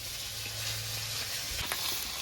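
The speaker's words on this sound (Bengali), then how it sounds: "মাছগুলো ভাজা হয়ে গেছে এখন নামিয়ে নেবো" Pieces of boal fish fry in hot oil, giving a continuous, even sizzle at moderate level with a low steady hum beneath and a few faint clicks.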